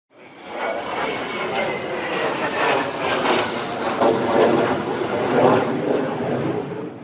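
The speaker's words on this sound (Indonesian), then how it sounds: "pesawat tempur F-16 dari Skuadron 16 Pekanbaru mengejar pesawat asing" An F-16 fighter jet from Indonesia's Skuadron 16 Pekanbaru flies during an air-security exercise, giving a loud, steady broadband roar that swells and holds for several seconds.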